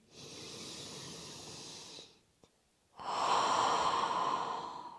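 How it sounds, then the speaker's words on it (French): Two deep breaths during a yoga flow: a long nasal inhale, a short pause with a small click, then a louder, breathier exhale through the mouth, close and alone. "Prenez une grande inspiration par le nez. Expirez par la bouche."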